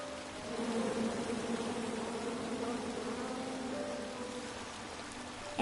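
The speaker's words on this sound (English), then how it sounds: "you chop down the tree full of angry bees" Angry bees buzz in a steady, droning swarm throughout, a dense insect hum from the King's Quest video game, loud and continuous with no talking over it.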